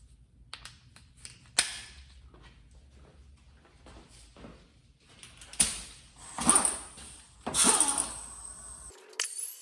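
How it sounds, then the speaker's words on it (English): An air ratchet on a short extension backs spark plugs out of a Mercedes-Benz R-Class W251 engine. Several close, sharp bursts of pneumatic whirring stand out, separated by quieter clicks and tool handling in the workshop. "air ratchet, little extension."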